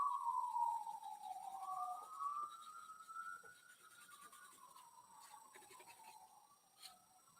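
Emergency sirens wail outside on a Philadelphia street, a single faint, distant tone rising and falling slowly against quiet indoor background noise.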